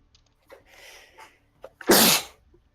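A single sharp sneeze bursts out near the end, preceded by a few soft breaths and murmurs during a tabletop role-playing session.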